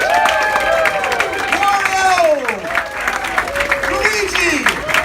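Audience applause for a performer playing Mario at a PAC-MAN roast comedy show at the TooManyGames 2018 convention, steady clapping and crowd noise throughout with shouts and cheering mixed in.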